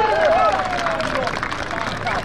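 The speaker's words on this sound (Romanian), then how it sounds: "Aplauze!" Outdoor crowd at a draft horse pulling contest claps and cheers amid general hubbub, a loud, continuous patter of hands close by, with a voice calling out over it.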